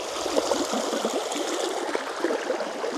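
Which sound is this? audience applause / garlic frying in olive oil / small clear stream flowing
small clear stream flowing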